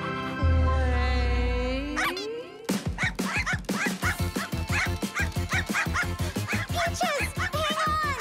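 An animated dog barks in a cartoon in a quick run of yappy barks and yips, preceded by a whining, whimpering sound, loud and close with no talk over it.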